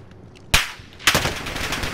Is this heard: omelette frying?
no